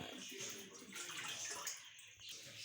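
Tamarind pulp water poured into a pan for tamarind chutney, a close sloshing, gurgling pour with faint voices in the background.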